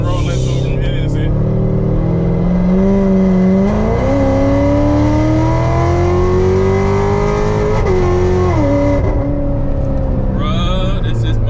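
A Corvette C7 Z06 with an 8-speed automatic accelerates hard, its loud engine climbing in pitch and dropping at each upshift, with excited voices talking over the drive.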